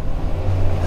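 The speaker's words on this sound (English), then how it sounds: "Here comes a truck." Truck on the road passing riders on motorcycles including a Yamaha Tenere 700, a close low engine rumble with steady road noise throughout the short moment.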